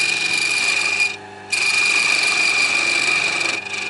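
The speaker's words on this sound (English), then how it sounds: "just with a diamond file" Diamond file rasping against the points of small wooden star earrings, a close, steady scraping with a brief pause before the strokes resume.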